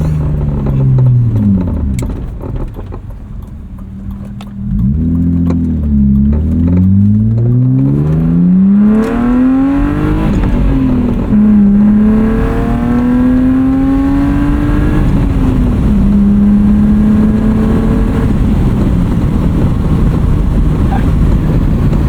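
From inside a 1995 BMW E36 325i with a five-speed manual, the engine revs up through first and second gear, with a clear pitch climb, a drop at the shift, then another rising pull, loud and close throughout.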